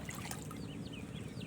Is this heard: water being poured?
yes